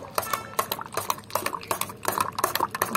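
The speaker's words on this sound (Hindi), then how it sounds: "अच्छे से हम फेंट लेंगे इसको" A spoon stirs and beats curd in a bowl while dahi is being set, giving repeated quick clinking scrapes in an uneven rhythm, close and fairly loud, with no talking.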